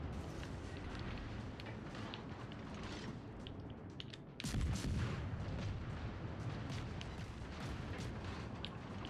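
Naval gunfire from cruisers in a warship video game, a low rumbling barrage with mechanical creaks before a heavy booming salvo about midway that keeps rolling afterward, with no talking.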